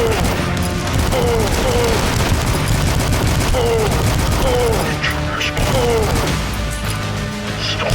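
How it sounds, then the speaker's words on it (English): Rapid assault rifle fire in the video game DUSK, a steady rattle of close, loud shots over a busy game soundscape with repeated short whistling tones. "That's what the assault rifle does."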